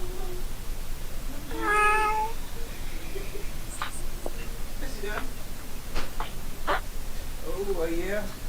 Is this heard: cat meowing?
yes